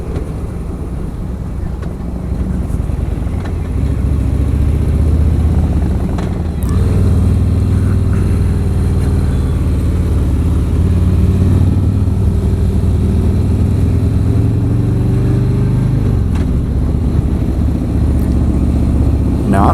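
Harley-Davidson motorcycle engine while riding, a loud low rumbling drone that holds steady with a few shifts in pitch, close up and continuous, mixed with wind rush.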